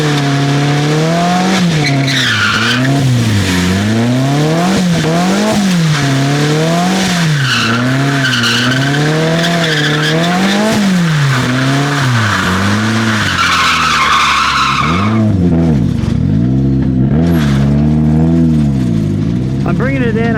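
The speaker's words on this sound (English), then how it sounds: "Sliding off the track while you're in drift." Nissan 240SX drifting on a track, tires squealing and skidding in long wavering howls over a revving engine, continuous and loud, ending with a rougher slide.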